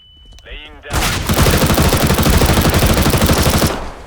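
A sustained, loud burst of automatic gunfire in Counter-Strike: Global Offensive, rattling continuously for about three seconds after a brief spoken exclamation.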